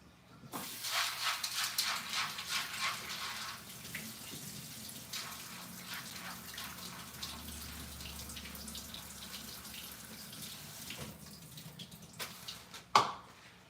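Flattened rice is washed in water, giving a soft running, splashing water sound that is quiet and steady, louder at first, with a brief clatter near the end and no voices.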